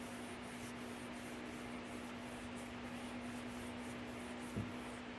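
A hand rubs back and forth over the painted body of a totaled Nissan GT-R before clay barring, a faint, steady rhythmic swishing friction sound over a constant low hum.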